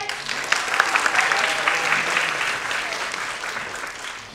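An audience at a music press event welcomes the singer with dense, steady applause, fairly loud and continuous throughout with no voices on top.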